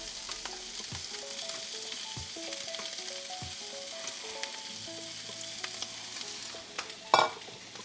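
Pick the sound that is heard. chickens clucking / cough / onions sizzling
onions sizzling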